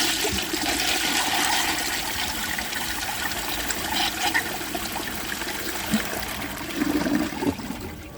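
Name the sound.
1934 Bowers pottery toilet flushing a washcloth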